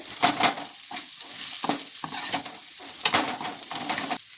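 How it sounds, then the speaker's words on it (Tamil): Chopped onion frying and being stirred in a pan for a brinjal and drumstick poriyal with garlic already in, a steady close sizzle broken by repeated scraping stirs, no voices. "இப்போ வெங்காயம் போட்டுக்கலாங்க"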